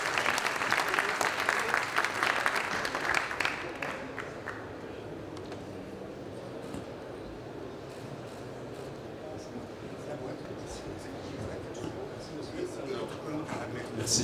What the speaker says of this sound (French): MyLetGo, on peut les applaudir